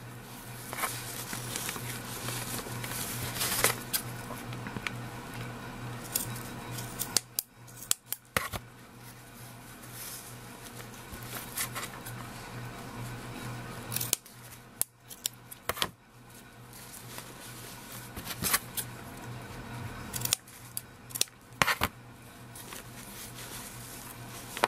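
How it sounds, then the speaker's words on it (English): Sharp scissors snip repeatedly through fabric strips while a shabby rosette is made, with bursts of close cutting and rustling between short pauses, no talking. "If you have a smaller pair of sharp scissors, it might be a little bit easier."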